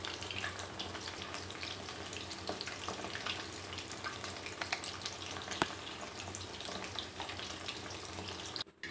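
Chicken pieces frying in hot oil for chilli chicken, a steady, dense crackling sizzle heard close and continuous, with no talking.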